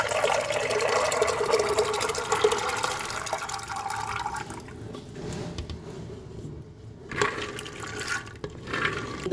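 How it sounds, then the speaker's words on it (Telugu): Water is poured into a pressure cooker holding chickpeas, a splashing, gurgling fill that runs steadily for several seconds, then gives way to a few shorter pours and splashes. "నీళ్లు పోసి"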